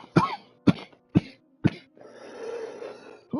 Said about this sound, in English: Yes, you will hear my coughing.